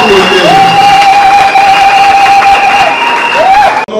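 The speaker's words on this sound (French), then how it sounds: "est-ce qu'à ce titre on peut applaudir?" A loud crowd at a political rally cheers and applauds, and a sustained piercing whistle-like tone holds steady over the noise for several seconds before the din briefly cuts out.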